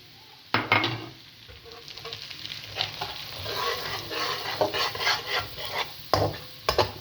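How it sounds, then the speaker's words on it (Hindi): Semolina is sieved into hot ghee with cardamom, giving a close sizzling hiss mixed with wooden scraping and several sharp clinks of utensil on pan, with irregular bursts throughout. "एक जो छन्नी है वो मैं इसमें सूजी की डालती हूँ"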